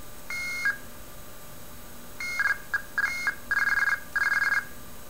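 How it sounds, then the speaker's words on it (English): IMTS ANI signaling tones generated as sine waves by a blue box: a short steady two-tone burst, a pause, then a quick run of clean electronic tone pulses and longer beeps in rapid sequence, clear with no talking. "IMTS ANI in square. And in sine."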